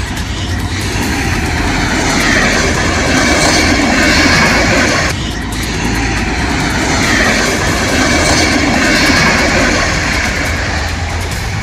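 A coal-laden freight train of 53 wagons derails in Bihar, spilling coal onto the tracks. A loud, steady broadband rumble of rail noise runs without a break, swelling slightly mid-clip, with no voices.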